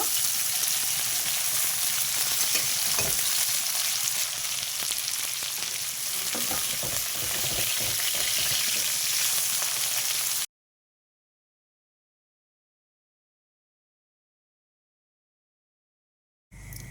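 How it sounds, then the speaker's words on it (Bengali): Vegetables frying in hot oil give a steady, dense, close sizzle for about ten seconds, then cut off to silence before a brief return at the very end. "সব সবজি ভাজা হয়ে গিয়েছে, এবার তুলে নেব।"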